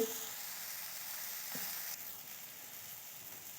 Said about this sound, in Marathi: हे बघा आपला मसाला छान तळला आहे आता आणि टोमॅटो पण बारीक झाले